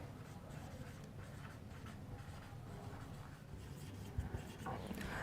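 Pen writing a job application letter by hand on paper, a steady close scratching of strokes over several seconds, quiet and continuous with no voice.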